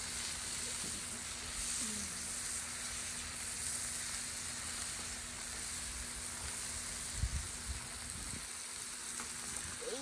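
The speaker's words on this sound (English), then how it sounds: "Start flip the bacon for me." Bacon frying in a pan gives a soft, continuous sizzling hiss, fairly quiet and steady, broken by a few faint knocks and clatters of kitchen handling.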